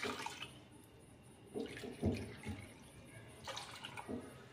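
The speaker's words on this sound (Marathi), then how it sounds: "त्यासाठी मी 5 वाट्या पाणी घेत आहे।" Water measured out by the bowlful and poured for broccoli soup, with a few separate splashing pours and drips set apart by short quiet gaps.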